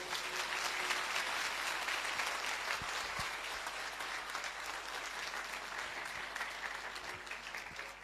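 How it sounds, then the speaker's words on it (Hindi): A church congregation applauds together during a sermon, a steady wash of many hands clapping that sounds faint and slightly distant and continues for about eight seconds. "आइए प्रभु के लिए अच्छी ताली बजाएंगे मिलके"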